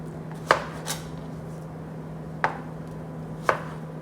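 A knife chops summer squash into smaller pieces on a board, giving three or four crisp, separate thuds spaced irregularly over a steady low hum, with no voices.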